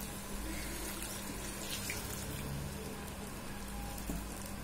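Water is added to crab pepper masala cooking in a pan, giving a steady continuous sizzling, splashing hiss that stays loud throughout with no talking.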